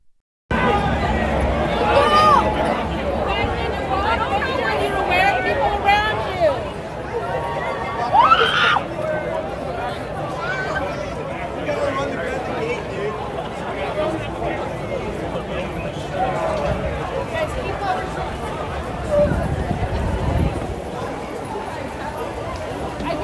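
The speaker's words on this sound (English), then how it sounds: "And look at this crowd." A large crowd murmurs in steady babble while waiting at the Calico Mine stage at Knott's Scary Farm, with a nearby voice talking over the hubbub.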